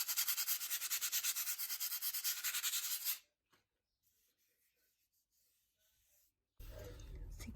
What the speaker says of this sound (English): I'm just flicking the sandpaper over